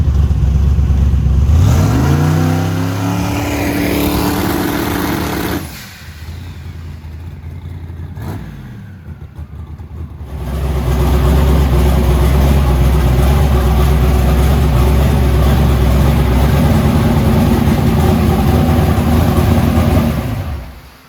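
A loud truck engine revs up hard on turbo boost, drops briefly to a lower rumble, then climbs and holds a heavy sustained roar close by, after head work.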